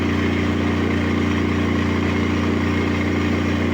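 A 5 kW diesel generator engine runs at a steady idle close by, a loud, even, continuous throbbing hum with no change in pace.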